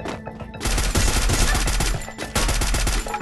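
Rapid automatic gunfire rattles through a video game shooter in dense, continuous bursts. Heavy low thumps sit beneath the crackle, with a brief lull before the fire picks up again, loud and close.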